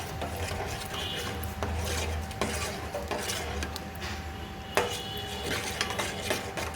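A spoon stirs sugar into a mango ice-cream milk mixture with soft, steady scraping and clinks against the pot, plus a couple of sharper taps, quiet and close.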